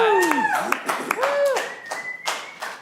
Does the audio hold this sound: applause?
yes